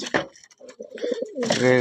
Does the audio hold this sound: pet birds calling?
yes